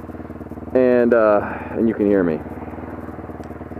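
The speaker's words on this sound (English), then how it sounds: "the microphone will pick up the exhaust over my voice, and sometimes it just, you know, drowns out my voice" Motorcycle exhaust while riding, a steady low engine drone beneath a rider talking into the helmet microphone, with the voice standing out clearly over the exhaust.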